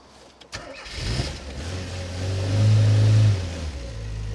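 An old camper van engine cranks and catches, revs up with a rising low rumble, then dies away as it stalls, heard close with no talk.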